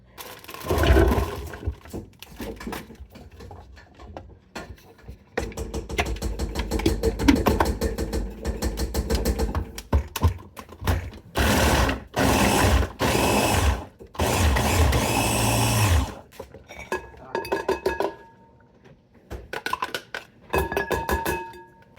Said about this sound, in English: I put those in my Ninja and chop it up really, really finely.